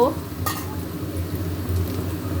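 Marinated chicken going into a pan of well-fried chopped onions, giving a steady low sizzle with a brief clatter near the start, continuous and close throughout.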